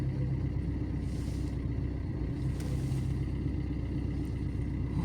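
A car driving on the road at night, heard from inside as a steady, loud engine and road rumble that continues without a break.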